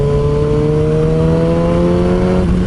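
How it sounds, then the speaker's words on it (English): A Kawasaki ZX6R motorcycle engine holds a steady, loud rev with a sustained droning tone, dropping slightly near the end, with no distinct crackle pops standing out. "Certainly gives out some lovely little cracks. The exhaust."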